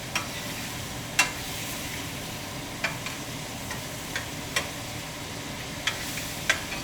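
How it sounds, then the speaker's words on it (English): Apples for apple pie caramelize in a pan with a steady, close sizzle, broken by occasional sharp ticks and light stirring scrapes. "Make sure they caramelize for 5 minutes."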